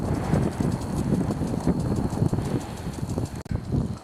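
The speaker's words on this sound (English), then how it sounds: "I know this wind is not helping this camera at all. But it's windy." Wind buffets the microphone near the Hurricane Creek forest fire, a loud, steady roar with gusty rumbling throughout.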